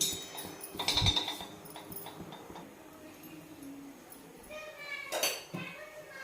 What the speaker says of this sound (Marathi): तवा ठेवून द्यायचा आहे लोखंडी